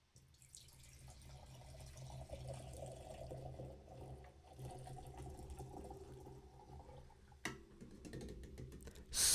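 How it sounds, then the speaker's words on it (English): Monster Nasty Beast iced tea lemonade poured into a glass, a quiet, continuous liquid trickle with soft splashes and drips, ending in a brief louder burst. "let's give the Nasty Beast iced tea lemonade a pour"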